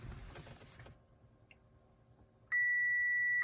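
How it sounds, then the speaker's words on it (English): A long steady electronic beep sounds from an aftermarket RSNAV Tesla-style touchscreen as it boots up in an Audi, following a quieter stretch of low cabin hum and faint clicks. "Excuse the beeps."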